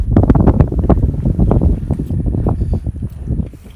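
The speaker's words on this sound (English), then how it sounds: "You can get a little bit of wind right now" Outdoor wind beside a parked car at a dealership, buffeting the microphone in loud, irregular gusty thumps throughout.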